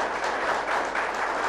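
An indoor audience applauds at a food event, a dense, even wash of many hands clapping together at steady volume throughout.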